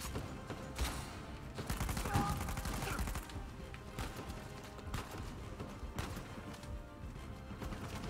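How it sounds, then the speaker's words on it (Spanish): Gunfire in the Uncharted 4 video game comes as dense, rapid bursts of shots over a busy game soundscape, steady and moderately loud throughout. "Es que da igual que le dispare, es que te sigue disparando."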